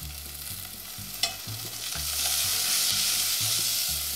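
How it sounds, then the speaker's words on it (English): Corn and garlic stirred in a frying pan with a steady scraping rhythm of a utensil against the pan, roughly twice per second, over a soft continuous sizzle, plus one sharp clink near the middle; no talking. "We're gonna stir this around."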